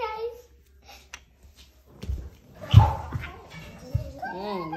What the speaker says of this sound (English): Oh, dogs are being noisy